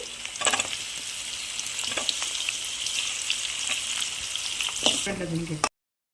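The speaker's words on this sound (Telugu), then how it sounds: "పచ్చిమిరపకాయ ఏగేసిందండి. ఏగుతానే ఎర్రగడ్డ వేసుకోవాలి." Onion frying in hot oil with green chillies in a pan for Bombay rava upma, a steady close sizzle with occasional stirring scrapes before it cuts off abruptly.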